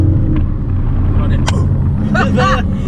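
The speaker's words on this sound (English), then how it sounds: "That shifted in that gear, bro." Deep low rumble of a 2019 Dodge Charger Scat Pack V8 heard from inside the cabin under acceleration, steady and loud, with people talking over the engine.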